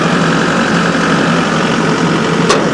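A Kubota tractor engine runs loud and steady at close range, with both rear tires spinning and the differential locked, a continuous rumbling drone with a brief click near the end.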